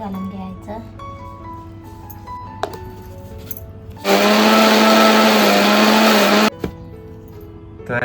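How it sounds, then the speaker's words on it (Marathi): A mixer grinder grinds wet grated coconut masala with coriander and green chilli for stuffed pomfret, a loud steady whirring roar lasting about two and a half seconds before stopping abruptly, with quieter kitchen sounds and background hum around it. "इकडे आपल्याला मिक्सर मध्ये ना सर्व वाटून घ्यायचं आहे"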